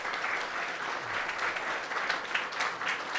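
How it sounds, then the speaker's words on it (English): An audience at a live radio show broadcast from The Exchange in Letterkenny claps together, a steady, fairly soft patter of many hands lasting a few seconds. "Round of applause, everybody."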